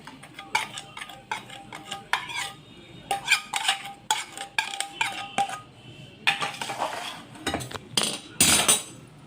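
A spoon stirs a freshly made tadka into raw peanut chutney, with repeated metallic clinks and scrapes against the bowl in quick bursts, close and fairly loud, with no voices.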